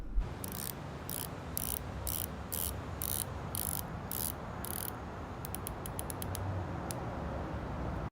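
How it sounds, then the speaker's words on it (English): An aluminum-insert 120-click unidirectional elapsed-time bezel on a dive watch turns in short bursts of fine, crisp ratcheting clicks, up close and alone against a faint background hiss. "120 unidirectional elapsed time bezel with an aluminum insert. Solid bezel action with minimal play"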